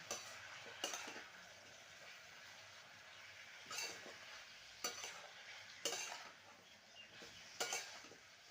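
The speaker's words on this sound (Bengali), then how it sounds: "ভালো করে মশলার সাথে কষিয়ে নেব" Steamed bottle gourd stems and greens are stirred with spices in a pan, giving a soft, steady sizzle broken by about six scraping stirring strokes, quiet and close.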